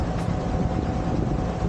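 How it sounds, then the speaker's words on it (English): Engines on a small wooden-plank river ferry in Laos run as a steady, continuous low rumble with broadband noise, fairly loud and close throughout, with no talking. "And I guess some engines, because I can hear them."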